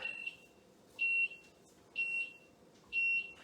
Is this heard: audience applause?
no